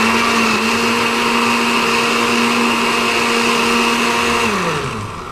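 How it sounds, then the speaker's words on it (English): A blender whirs loudly and steadily as it blends green drink ingredients, a constant high motor drone that begins winding down toward the end. "we're going to put that in the blender"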